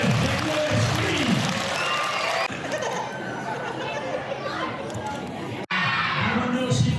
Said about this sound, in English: I want you to give them a big, huge round of applause